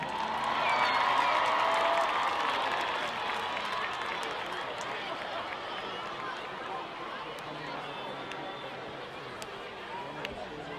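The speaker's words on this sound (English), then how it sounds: "let's hear the applause for the talented Westlake High School dance team" An audience in a high school gym at a game applauds and cheers, a loud swell of clapping and crowd noise that slowly fades into murmuring chatter.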